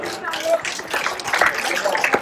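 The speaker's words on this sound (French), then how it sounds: "On applaudit très très fort" An outdoor audience claps for a cyclist at a bike race in Malestroit, a scattered burst of applause running under a voice speaking over it.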